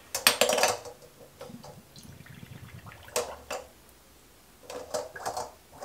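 Glass bottles clink and knock in a small pot of water while being readied for boiling to sanitize them, several sharp bursts of clatter and gentle sloshing, close and moderately loud, with no talk.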